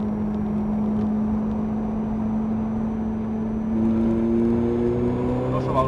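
A car engine accelerating on a fast race circuit, its tone holding steady and then rising in pitch as the revs build, with speech underneath.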